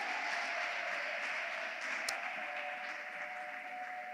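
Wedding guests clap together in a steady, even wash of applause that holds for several seconds, with no voices above it.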